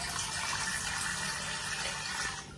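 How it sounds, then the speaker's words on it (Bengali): Water pours steadily into a repaired glass aquarium bowl, a continuous close splashing rush with no pauses. "দেখুন জল পড়ছে"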